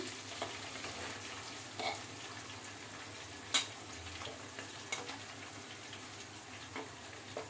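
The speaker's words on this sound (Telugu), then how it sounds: "మరి ఇదిగో ఉల్లిపాయలు వేసేస్తున్నాను." Onions fry in a pan for a wild boar meat curry, a faint, steady sizzle with scattered sharp ticks and clinks of a utensil stirring.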